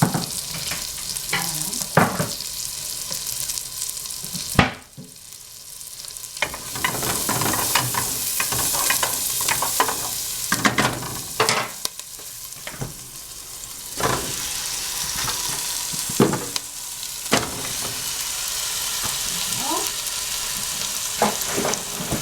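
A wooden spoon stirs food frying in a pan, with steady loud sizzling broken by repeated scraping strokes and brief clatters, plus a short lull partway through.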